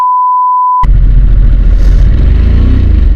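A Harley-Davidson Sportster S motorcycle accelerating hard in first gear, its engine bursting in suddenly after a steady beep-like tone, then a loud, close, continuous deep rumble with wind noise.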